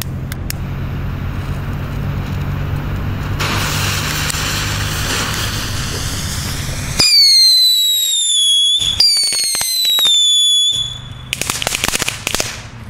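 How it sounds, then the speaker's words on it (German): New Year's Eve firework rockets launch and burst: a rushing fuse and whistling climb, sharp cracking explosions, then more rapid pops and bangs, loud and close outdoors. "Hier haben wir noch 3 Raketen."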